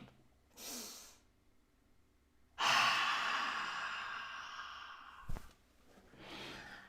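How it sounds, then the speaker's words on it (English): A person takes a deep breath into the belly and lets it out with an audible, drawn-out sighing exhale, close and clear, with a few quieter breaths around it and no talking. "A big delicious inhale into the belly and exhale with sound."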